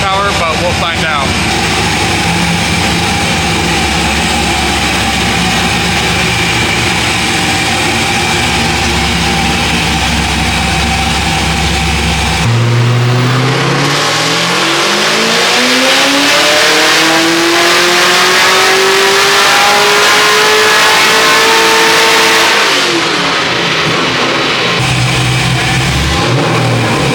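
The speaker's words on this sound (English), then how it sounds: "Hopefully we can get some pretty good pulls on the dyno with the 350Z." An LS-swapped, supercharged Nissan 350Z roars loudly on a dyno, holding a steady drone before climbing in pitch through a long full-throttle pull, then dropping back near the end.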